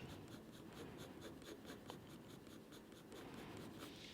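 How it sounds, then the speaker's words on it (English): Colored pencil scratches steadily across pastelmat paper layered over pastel, a continuous close, soft rasping of short back-and-forth strokes with no voices. "The color pencil goes on top of the pastel quite easily."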